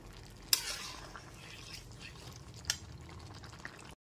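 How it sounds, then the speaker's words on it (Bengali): A spoon stirs tomato ketchup into a bottle gourd curry over a medium gas flame, with soft scraping and faint sizzling and a few sharp clinks against the pan. "গ্যাসের ফ্লেমটা মিডিয়ামে রেখে খুব ভালো মতো টমেটো কেচাপটা মিশিয়ে নিচ্ছি"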